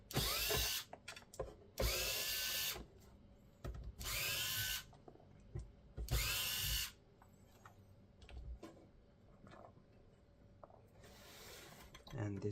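A power driver backs four screws out of an Xbox power supply casing, producing four loud, close whirring bursts at a steady rhythm, followed by quieter handling and clicks of the plastic parts.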